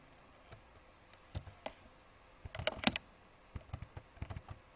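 Clicky computer keyboard keystrokes tapped out in short irregular bursts, with a brief quicker cluster midway, close and fairly quiet with no voices.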